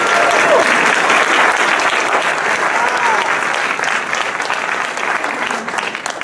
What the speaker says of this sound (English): Let's give him a round of applause now